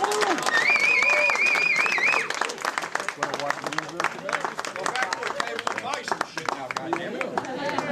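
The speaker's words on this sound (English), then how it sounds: "One more round of applause before we go." Audience applause at a Q&A event, heard as scattered, uneven clapping that starts under a whistled or sung tone and a voice, then continues as sparse individual claps with murmuring.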